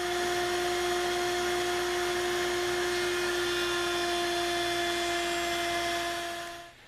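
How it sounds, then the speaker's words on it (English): A router fitted with a 3/8 inch radius bit rounding the bottom edge of a wooden frame, a steady high whine with a constant cutting roar, close and loud, winding down at the very end. "we use a 3/8 inch radius bit to round off the bottom of the frame"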